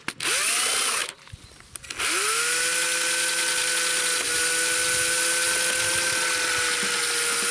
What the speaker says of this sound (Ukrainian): І зараз беремо міксер.